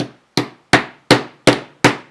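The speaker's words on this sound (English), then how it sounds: "so we'll just tap that into place very carefully" Hammer tapping a part into place while building a Sonique-style spiderweb, six sharp, evenly spaced knocks about a third of a second apart, each ringing briefly before fading, close and loud with no talking.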